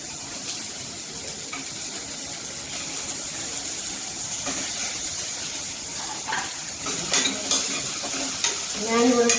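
Tomato and pepper for fish molly fry and get stirred in a pan, a steady loud sizzle with scraping stir strokes, sharper clatter toward the end.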